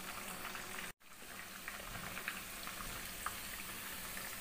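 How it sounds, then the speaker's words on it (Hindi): Chicken pieces frying in a pan for a chicken cashew nut dish, giving a steady, close hiss and bubbling sizzle that runs throughout with a brief dropout near the start and no talking. "इसी तरह हम सेकंड जो पोर्शन है उसको भी ऐसे ही फ्राई कर लेंगे।"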